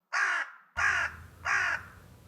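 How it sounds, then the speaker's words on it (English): A crow caws three times in quick succession inside a studio, each call loud, harsh and close, with short gaps between them and no talk. "We don't have crows in the studio."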